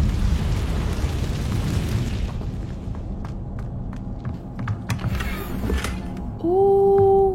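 Blasting-spell explosions in a Harry Potter video game: a loud rumbling burst at the start decays into scattered crackles and thuds, then a steady two-tone hum rises near the end.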